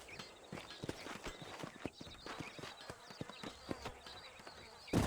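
Steady clip-clop of horse hooves walking at an even pace in a video game, fairly close, with faint background ambience and a brief louder knock at the end.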